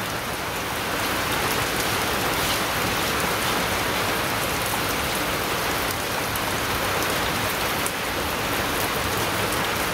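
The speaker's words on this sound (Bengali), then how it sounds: "এই যে বৃষ্টি শুরু হয়েছে। কি তাহলে বৃষ্টি, ঝড় বৃষ্টি তুফান শুরু হয়েছে" Heavy rain pours down steadily during a storm, a dense, loud, continuous hiss of drops drumming on surfaces nearby, with no voices.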